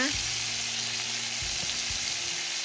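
Soy sauce sizzling in a hot iron wok for Thai braised pork leg and eggs, with a loud, continuous hiss and a couple of soft clanks near the end.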